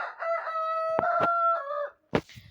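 A backyard chicken crows loudly and close by in a long drawn-out call, then breaks into a short sharp cluck after a brief pause.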